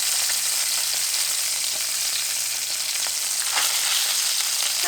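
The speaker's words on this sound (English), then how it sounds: "It's hot. Why you gotta sizzle like that?" Chicken saltimbocca browns in a hot pan, giving a steady, close, crackling sizzle with fine spattering pops throughout and no talking.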